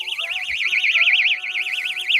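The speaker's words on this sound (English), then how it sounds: "You hear your emergency call." Emergency alert alarm wailing in a fast rising-and-falling electronic tone, loud and continuous, with a faint bump of movement underneath.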